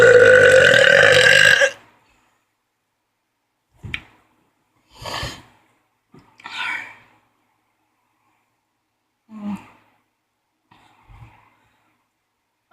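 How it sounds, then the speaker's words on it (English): A long, loud, rumbling burp comes first, then a handful of shorter, quieter belches spaced apart, separated by silence. "I guess that's enough burping for today"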